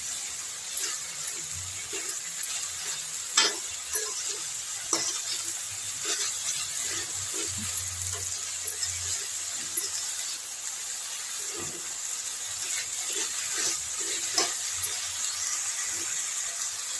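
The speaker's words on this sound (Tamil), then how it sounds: "இதை நல்லா வதக்குங்க. இப்போ நல்லா வதக்குங்க." Soft, steady pan hiss with scattered clicks and light scraping as lotus stem is sautéed and stirred, quiet and close, with no voices.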